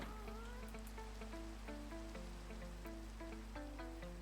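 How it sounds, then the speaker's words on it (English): Rain falls steadily in the Minecraft video game, a soft continuous patter heard alongside light, gentle in-game tones, with no talking. "And the rain allows me to get to sleep a bit quicker."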